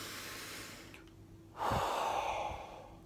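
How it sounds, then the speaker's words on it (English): Slow, deliberate breathing: a quiet, drawn-out breath followed by a louder, fuller exhale that trails off, close to the listener with no speech. "I slow my breath down. I control my breath."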